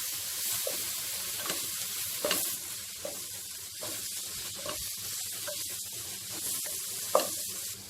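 Coriander, chili and turmeric powders sauté in an oiled pan with a soft, steady sizzle, punctuated by regular light scrapes and taps of a spoon as the mixture is stirred.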